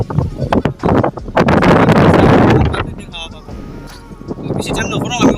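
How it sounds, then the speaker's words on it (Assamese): Gusty outdoor wind buffets the microphone in loud surges before rain on a hot day in a scenic natural spot, while a person talks over it. "বতৰ বেয়া, অলপ পিছত বৰষুণ পৰি বতাহ মাৰিয়ে আছে"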